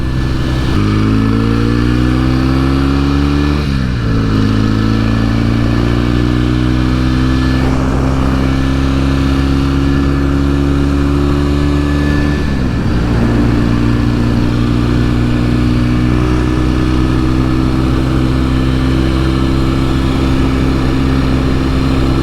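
A 1968 Norton Commando 750 engine holds a steady cruising drone around 4,000 rpm, rising gradually in pitch with a couple of brief dips as gears shift, loud and close throughout.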